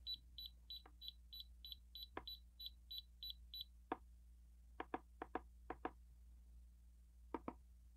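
A lithium-ion battery level meter sounds its low-voltage alarm, a rapid run of about a dozen short, even electronic beeps, followed by several scattered clicks as its buttons are pressed, with no talking.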